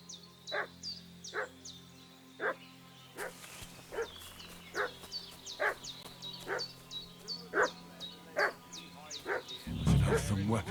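Barks from a dog in a medieval village in Kingdom Come: Deliverance II, sharp and regularly spaced, a dozen or so yaps at moderate distance over a low ambient hum, with a louder thump near the end.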